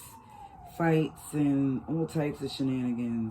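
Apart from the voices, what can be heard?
ambulance siren passing outside in New York City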